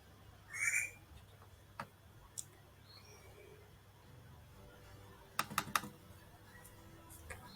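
A few quiet computer keyboard keystrokes while a chart title is typed, scattered single clicks followed by a quick cluster of three or four taps, faint against a low room hum.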